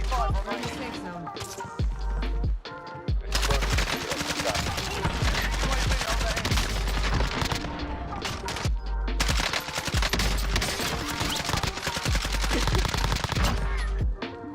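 Rapid bursts of automatic gunfire and single shots from a battle royale shooter game, loud and nearly continuous across the match with brief lulls, mixed with in-game effects.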